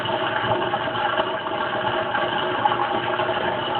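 A Kenmore Oasis washing machine, showing an OL fault code, pumps water partway through its wash cycle, giving a steady, continuous mechanical hum and whir at close range with no talking.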